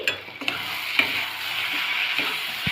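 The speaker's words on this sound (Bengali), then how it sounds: "এখন গুঁড়ো মশলাগুলো দেওয়ার পর আবারও আমরা ভালোভাবে মিশিয়ে নিচ্ছি" Powdered turmeric, coriander and chili frying in a pan, a steady close sizzle broken by several sharp scrapes and taps of a spoon stirring through the spices.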